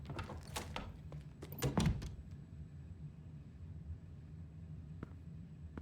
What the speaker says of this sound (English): That door shut way too loud.